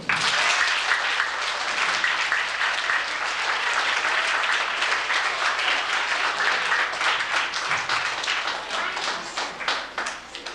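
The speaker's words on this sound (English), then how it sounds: "Let's have a nice round of applause for Miss Susan Bloom." A concert audience of young people gives a sustained round of applause for a performer, dense clapping filling the room evenly and steadily before thinning slightly toward the end.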